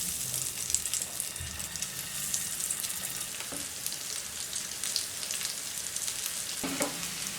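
Boiled potato rounds coated in masala fry in a pan with a continuous soft sizzle and faint crackles, fairly quiet and steady, with no talking.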